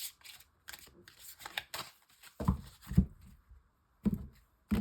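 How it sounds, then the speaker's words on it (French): Oracle cards shuffled and drawn by hand, a run of quick crisp riffling flicks and snaps, close and fairly soft, in short bursts separated by pauses. "Donc, je vais prendre une ou deux cartes."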